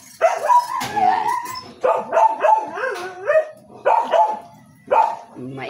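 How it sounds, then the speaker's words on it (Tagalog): A dog barks and yips repeatedly up close in a kitchen during hot cake preparation, with whiny, high-pitched barks coming in quick bursts. "Maingay yung aming aso."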